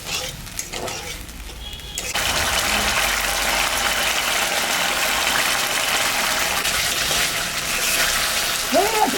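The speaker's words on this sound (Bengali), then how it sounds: "সামান্য একটু জল দেব।" Water poured into a cooking pot where gravy is simmering, a sudden rush of hissing and sizzling that starts after two seconds and continues steadily, close by, with no talk.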